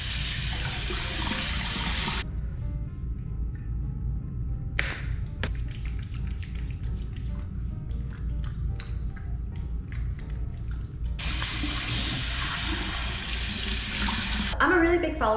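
A bathroom tap runs in a steady broadband rush for face rinsing before a gel cleanser, with a quieter gap in the middle and the water surging again near the end, close by.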